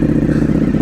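A 2025 Ducati Panigale V4 S fitted with an Akrapovic exhaust roars loudly and steadily at close range, a dense, throbbing engine note filling the short moment without pause.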